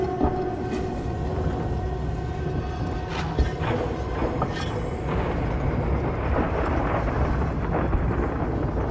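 A storm rages on a planetoid in the video game Alien: Isolation, a steady, dense roaring rumble with wind-like hiss that swells slightly and never lets up.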